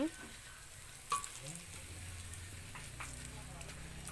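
Enoki mushrooms frying in a pan at home for lunch, giving a steady, soft sizzle with a few faint clinks and stirring sounds throughout.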